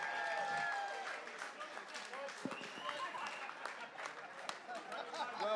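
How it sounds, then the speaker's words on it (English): A crowd in London applauds the returning Clipper Round the World sailing fleet, producing a fairly faint, steady wash of clapping with cheering and voices mixed in. "Give them a massive round of applause."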